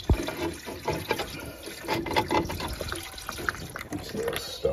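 Water flushes through a boiler condensate trap on an Ideal Logic combi and pours into a jug, a continuous close gurgling splash with clatter and handling sounds throughout.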